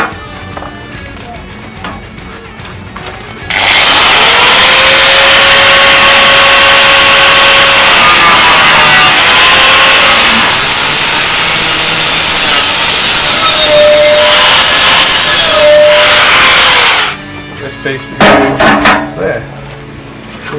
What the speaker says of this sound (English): Just got to cut a piece out of this to make way for where the light is going to go.